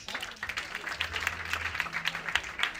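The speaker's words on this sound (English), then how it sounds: "Let's clap for her, please." Steady applause from a graduation ceremony crowd in Mombasa, many hands clapping together in a dense, continuous patter that holds evenly for about three seconds with no voices over it.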